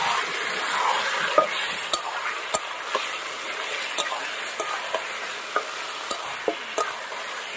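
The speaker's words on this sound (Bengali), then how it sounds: "দিয়ে পেঁয়াজ, আদা, রসুনের সাথে টমেটোর সাথে ভালো করে ভেজে নেব।" Chicken frying in a pan with onion, ginger, garlic and tomato, a constant loud sizzle punctuated by regular sharp spatula taps and scrapes from stirring.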